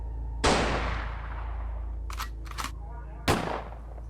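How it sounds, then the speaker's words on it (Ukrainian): Sharp pistol gunshots crack out on a 911 call recording, one loud shot followed by a quick pair of fainter ones and another loud shot, over a steady telephone-line hum. "На тлі розмови, наче грім, лунали постріли, із пістолета."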